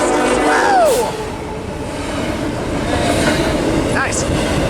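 A freight train rolls past close by with a continuous loud rumble and rattle of wagons, a brief metallic wheel squeal near the start, under excited voices.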